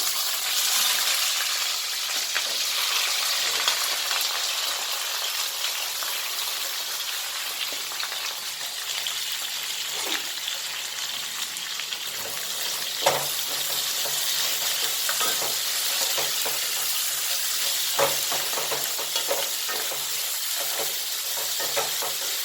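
Peanuts frying in leftover oil in a pan, a steady, even sizzle that runs throughout, with faint scrapes of stirring now and then.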